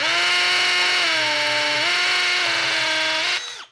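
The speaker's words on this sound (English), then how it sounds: "the hammer drill is gonna come in very handy because, well, it's gonna hammer this drill bit down in there" A loud, close hammer drill with a masonry bit whines steadily into cinder block, with a slight pitch dip midway, then winds down abruptly at the end.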